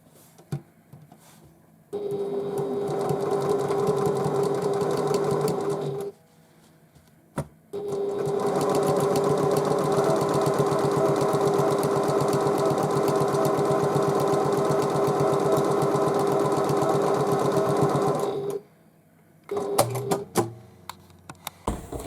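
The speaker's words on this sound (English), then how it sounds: "now we put the outer pieces together and sew across the bottom of that" A sewing machine stitches the outer pieces of a tote bag together across the bottom, running in two steady, loud bursts: a short run, a brief pause, then a long continuous stretch before stopping, with a few faint clicks after.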